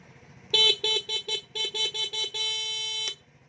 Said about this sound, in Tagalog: lumakas yung stock horn niya